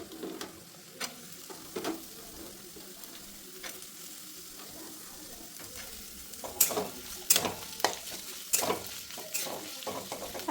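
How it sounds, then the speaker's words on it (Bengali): Potatoes and onion frying in a pan for Bengali chowmein, a low steady sizzle broken by sharp scraping stirs and clinks of a spatula against the pan, growing busier toward the end. "আস্তে আস্তে ভাজা হবে আলুগুলো অ্যাড করে দিচ্ছি"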